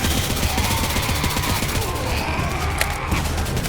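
Rapid automatic fire from a G3 rifle in the Roblox game Zombie Uprising, a dense, continuous stream of loud shots with no break.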